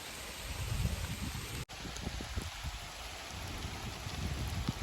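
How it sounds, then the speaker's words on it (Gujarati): Steady rain falls continuously in misty hills at Datar, a dense hiss with scattered drops pattering on surfaces, broken by one brief dropout before resuming just as heavily. "ને વરસાદ જો દેવા માંડ્યો છે"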